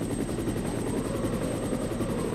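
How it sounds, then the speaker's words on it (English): Helicopter in the Resident Evil video game, with a loud, steady rotor thumping in a fast, even rhythm and a constant engine whine, close and continuous throughout. "That is one of the quickest helicopter landings I've ever seen,"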